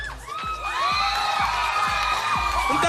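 A crowd cheers and shouts for a candidate at a community contest, with children's voices and whoops rising into a sustained, dense roar that carries to the end.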